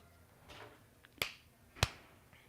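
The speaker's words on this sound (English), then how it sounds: "clap for me in 3" Two sharp, crisp hand claps sound about half a second apart, close and clear against a quiet background.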